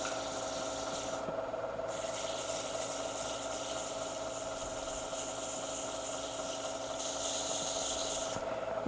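Sandpaper rubs against a wood-turned pen spinning on a lathe, a steady hissing rasp over a constant motor hum, with a short break partway through and a brief pause near the end.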